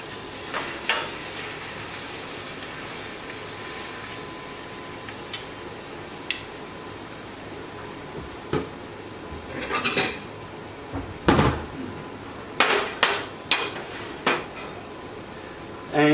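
Lemon chicken stirred in a stainless steel pan: a soft background sizzle broken by scattered metallic scrapes and clanks of a utensil against the pan, growing busier toward the end.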